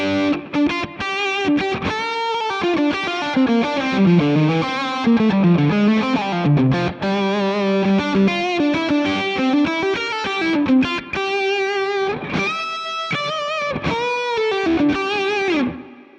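An overdriven electric guitar through a Quad Cortex capture of a Dumble ODS amp plays a gritty, sustained melody with bends and chords, loud and close throughout.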